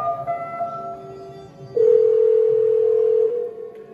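A telephone gives a steady, clear tone for about a second and a half as a call is dialed, heard close over a quiet room background.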